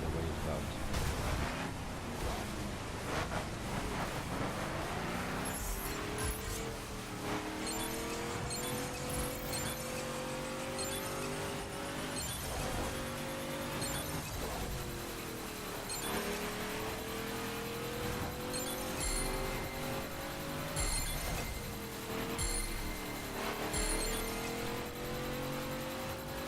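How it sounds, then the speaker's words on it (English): Passing car traffic in the racing game The Crew, with engines rising and falling in pitch as vehicles accelerate and sweep by, layered over a continuous mid-level road rumble and game sounds. "Lots of traffic, that's what it's all about."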